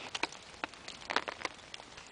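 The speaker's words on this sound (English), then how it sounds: "Seems the rain is subsiding." Light rain on a tarp: sparse, irregular drops tick softly against the fabric, quiet and close, with gaps between them.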